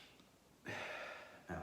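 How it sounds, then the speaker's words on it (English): A faint, slow inhalation drawn through the nose during a meditation session, a soft breathy rush lasting under a second, then a short second breath starting, close but very quiet. "Take a deep breath."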